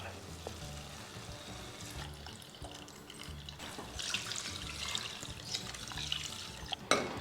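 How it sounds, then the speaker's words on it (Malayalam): Coconut milk poured into a mixer jar while cooking a breadfruit and duck egg curry: a soft, liquid pour rising over the last few seconds over a quiet kitchen background, ending in a brief knock. "മിക്സിയുടെ കപ്പിലേക്ക് ഞാൻ കുറച്ച് ഒഴിച്ചു കൊടുക്കാം"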